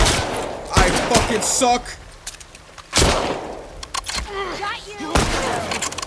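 Gunfire from The Last of Us Part 2 Remastered: several loud, sharp shots and short bursts go off during a tense combat encounter, under someone talking excitedly in between.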